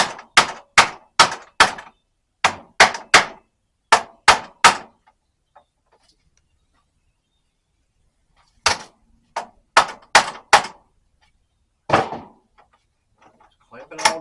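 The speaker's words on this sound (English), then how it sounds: "Now I'm just going to take my hammer and knock it that way." A hammer knocks a bathroom vanity piece into place. Two rapid series of sharp, close taps are split by a silent pause, and the second series ends with a few scattered lighter knocks.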